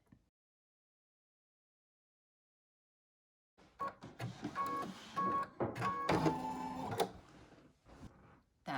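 A sewing machine runs a satin stitch around the edge of a mask panel, a busy mechanical whir with rapid needle clatter that starts after a long silence and keeps going steadily.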